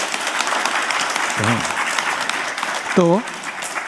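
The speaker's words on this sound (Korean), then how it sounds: "오늘 발표해 주신 5분께 큰 박수 좀 부탁드립니다" Audience applause at a Korean academic conference, steady clapping filling the room throughout, with a brief voice over it.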